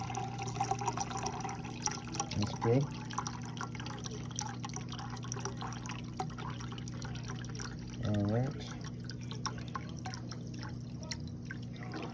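Water is dumped out and drips while a newly installed ice maker is tested in a DIY project. Faint pouring and trickling sit under an appliance hum, and a person speaks briefly.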